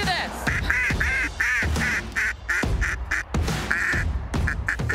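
Ducks quack in loud, repeated bursts during a waterfowl hunt in Alberta, their calls close and overlapping with a few deeper honks mixed in.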